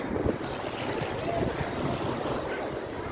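Small, low waves wash onto a beach at Marsa Matrouh, a faint continuous surf hiss mixed with wind buffeting the microphone.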